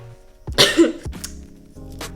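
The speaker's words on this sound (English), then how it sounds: "Sorry if you hear me sniffle or cough." A single harsh cough bursts out up close, followed by a shorter throaty catch, both set against quiet room tone.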